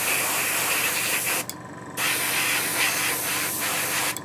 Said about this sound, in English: the compressor could be on the way out